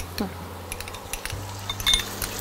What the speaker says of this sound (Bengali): তাহলে এটা আমি একটু হামানদিস্তায় গুঁড়ো করে দিই